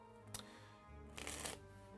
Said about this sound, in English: And shuffling carelessly because I want to show